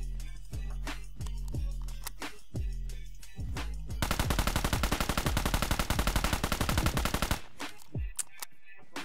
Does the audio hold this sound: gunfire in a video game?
yes